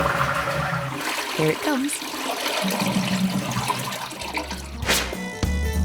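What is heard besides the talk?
toilet flushing and cistern refilling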